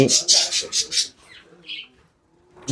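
Several close, harsh bird squawks in a quick burst, then a softer call and a pause before another squawk; no talking.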